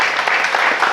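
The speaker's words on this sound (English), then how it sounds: "let's everybody give a round of applause for John," A convention audience at a horror film reunion Q&A applauds in a brief, dense wash of clapping that fills the short moment at steady, fairly loud level, with no clear speech over it.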